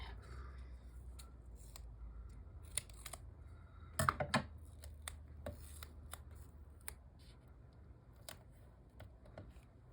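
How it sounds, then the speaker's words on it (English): Decal trimmer scissors cutting paper to give a jagged edge, heard as a series of close, sharp snips at irregular intervals with a small cluster of quick cuts partway through, over quiet background. "I use the decal trimmer on this so that it has, you know, kind of a jaggedy edge to it."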